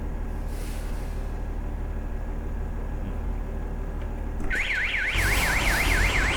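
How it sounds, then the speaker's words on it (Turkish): A steady engine rumble from a Volkswagen truck in Euro Truck Simulator 2, then a loud warbling electronic reversing alarm starts near the end, repeating a rising-falling tone. "Aracın geri geri gelirken verdiği uyarı da biraz komik"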